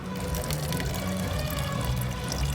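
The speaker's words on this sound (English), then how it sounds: "What a fancy water machine." Water pours steadily from a chilled and sparkling water dispenser, a continuous close splashing stream with no talking.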